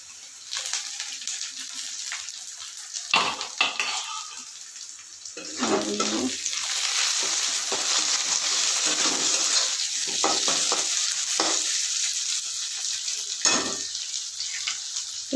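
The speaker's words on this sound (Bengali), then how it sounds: "দেখো হালকা ভাজা হয়ে গেছে, আমি এর মধ্যে এখন দিয়ে দেবো বিনস ভাজাগুলো।" Fried beans are tossed into garlic rice in a hot pan, giving a steady close sizzle with scraping stir strokes and a few sharper clatters throughout.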